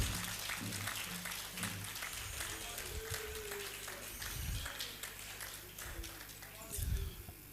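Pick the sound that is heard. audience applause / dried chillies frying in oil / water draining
audience applause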